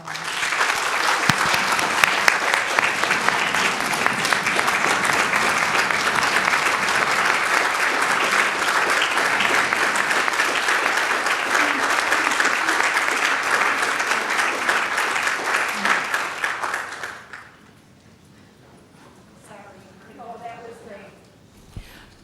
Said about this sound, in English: really deserves one more huge round of applause.